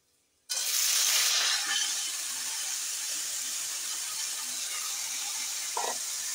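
Beans and dried fish hit a pan of fried onion and garlic with a sudden, loud sizzle that flares at first, then settles into a steady hiss close by.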